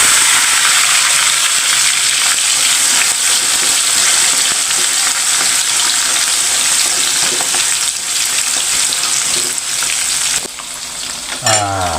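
Water spinach (kangkung) stir-frying in a hot pan, a loud, dense, steady sizzle with stirring and scraping throughout, easing slightly near the end.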